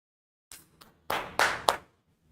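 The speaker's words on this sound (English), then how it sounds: "Huge round of applause" Students clapping in a classroom, a few separate claps followed by a short burst of hand claps, close and fairly quiet, with no voices.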